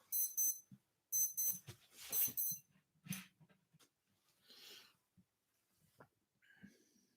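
A wristwatch alarm sounds at 4 a.m. as repeated bursts of rapid electronic beeps, close and fairly loud. The beeps come in three clusters early on, with faint background talk and bumps afterward.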